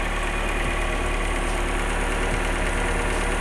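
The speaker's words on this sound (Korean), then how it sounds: "엔진 소리 일정하네요" A seventh-generation Lexus ES300h hybrid engine idles at an even, steady hum with a low rumble, running without change and no voices.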